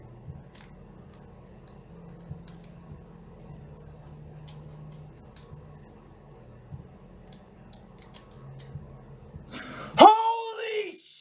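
Scissors snip open a foil trading card pack, a run of quiet, close cuts and crinkles over low room hum, followed by a sudden loud burst of excited shouting.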